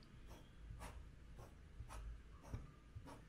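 Ranga Bamboo fountain pen nib drawing figure eights and crosses on paper, giving a faint, close scratchy rub in soft repeating strokes at a steady rhythm.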